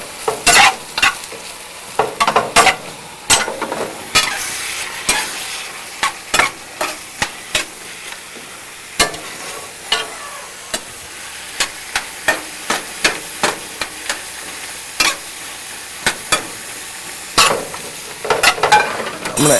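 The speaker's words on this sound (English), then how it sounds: "Let me just go over here and stir this for a second." A utensil stirs asparagus and garlic frying in oil in a pan, producing sharp, irregular scraping clacks against the metal over a continuous sizzle, close and fairly loud.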